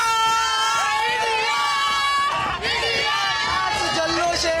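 Jubilant crowd celebrating India's win over Pakistan, a dense roar of cheering, shouting and babble that stays loud and continuous throughout, with chanting voices rising over the noise.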